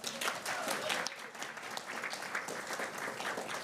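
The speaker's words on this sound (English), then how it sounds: "I want to just give a round of applause to all the poets and the attendees for their time" A round of applause from poets and attendees at a poetry event, steady crowd clapping throughout, moderately distant and fairly soft, with some voices faintly beneath it.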